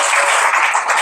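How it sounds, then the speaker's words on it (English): Dense audience applause at a tech-week talk, a steady wash of many hands clapping together for a brief moment, loud and without speech. "give a big round of applause to Dan, our sound guy"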